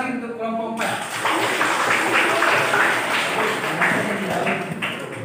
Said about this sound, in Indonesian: Tepuk tangan lagi untuk kelompok 4.